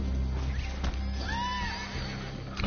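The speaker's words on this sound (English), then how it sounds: "Horse?" A horse gives a loud, close whinny that rises and falls over about a second, with low steady rumble and a faint hoof sound around it, no talking.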